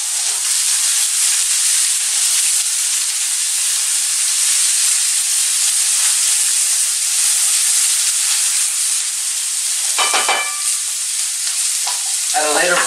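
Ingredients sizzle loudly in hot peanut oil in a pan, a dense continuous hiss up close, broken near the end by brief scraping stirs and clatter.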